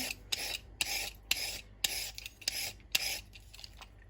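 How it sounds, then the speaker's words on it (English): A carrot being peeled for a vegetable stir fry gives about seven short, bright rasping scrapes in an uneven rhythm, close and moderately quiet, with no talking. "So to prepare the carrot, you can just peel."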